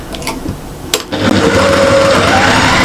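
A domestic sewing machine stitches quilt seams joining pieced halves of a squares quilt: a couple of brief clicks and handling sounds, then a close, steady whirring run of the motor and needle.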